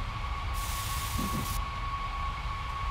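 Train running in Train Simulator 2017, the La La Land to Boston route, a steady low rumble with a constant tonal hum and a hissing burst partway through, moderately loud and continuous with no talk.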